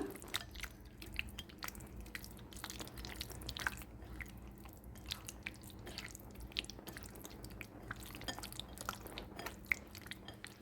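Ginger garlic paste is stirred into chicken tikka marinade, giving soft wet squishing and sticky clicks against a steady low background hum, quiet and continuous, with no one speaking.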